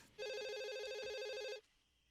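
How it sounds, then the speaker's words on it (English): A telephone in the 1996 horror film Scream rings once, a single clear electronic trill lasting over a second before cutting off into quiet room tone. "strange that the phone rings a second time"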